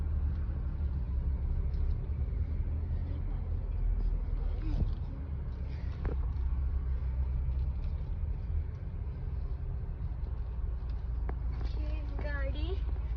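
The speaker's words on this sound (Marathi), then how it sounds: "ही गाडी आम्ही जी चालवतो आहे ती आता आलेली नवीन नेक्सॉन CNG आहे" Low, steady engine and road rumble inside a new Tata Nexon CNG car on the move, fairly quiet, with people talking over it throughout.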